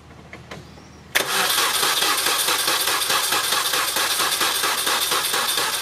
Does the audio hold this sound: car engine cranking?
yes